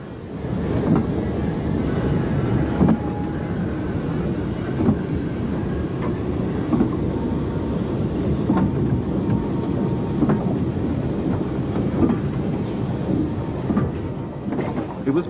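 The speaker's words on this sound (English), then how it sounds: "The two engines just prepared on the shed drop down one by one onto what turns out to be a very long mixed train" Two steam locomotives on a 1962 Yugoslav narrow-gauge railway roll down one by one onto a very long mixed train, a steady loud rumble of wheels and machinery with occasional clanks and knocks throughout.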